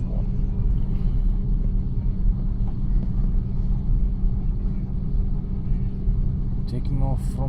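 Saudia Airbus A330-300 taking off from runway 15 left at King Khalid International Airport, heard from inside the cabin as a steady, loud low engine roar and rumble throughout, with a brief higher clatter near the end.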